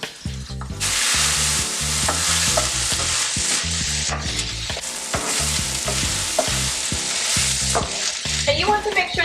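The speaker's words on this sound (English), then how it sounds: "you want to make sure that you are occasionally stirring this" Green peppers and saltfish frying in a pan, a loud continuous sizzle broken by a steady rhythm of spoon scrapes and clacks as the mixture is stirred, heard up close without talk.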